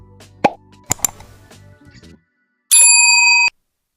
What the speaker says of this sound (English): kindly hit the subscribe button and turn on your notification bell